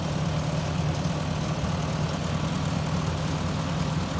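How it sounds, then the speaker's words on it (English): A 1957 Ford Workmaster tractor engine idles steadily with a low, even rumble and constant vibration, close and loud, with nobody speaking. "This 1957 Ford Workmaster runs great."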